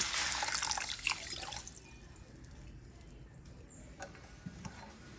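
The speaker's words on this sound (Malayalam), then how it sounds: "240 ml വെള്ളം കൂടെ നമ്മൾ ഒഴിച്ചു കൊടുക്കുകയാണ്." 240 ml of water is poured over 500 g of sugar to start a marshmallow syrup: a brief, close splashing pour fades into faint, scattered drips against quiet room tone.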